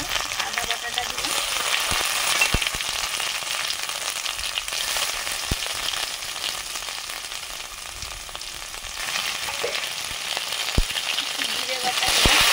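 Ginger paste with bay leaf and a little turmeric frying in hot oil, a steady close sizzle and crackle running throughout with occasional stirring scrapes and sharp pops.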